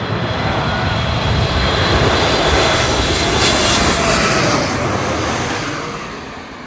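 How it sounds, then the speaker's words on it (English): A big Lufthansa Boeing 747 airliner comes in to land, its engines a loud, broad roar that holds steady before easing slightly as it passes, with no voices. "We saw a big 747 land."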